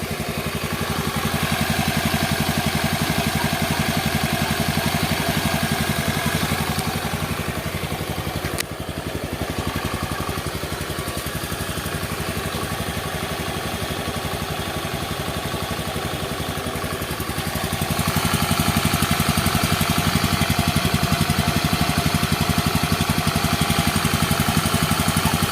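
Honda Beat scooter engine idling steadily after a kickstart, a continuous close, loud mechanical drone with a brief click partway through and a slight rise in intensity toward the end; no talking.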